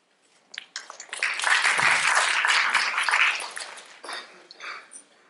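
Audience applause for a presenter at a November 2014 venture forum, starting with a few scattered claps, swelling into a full round of clapping from the room, then tapering off into a few lingering claps.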